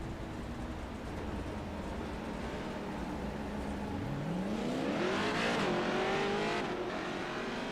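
A race car engine in a video game drones steadily at Watkins Glen, then revs up with a rising pitch and roars louder before settling, with no voices.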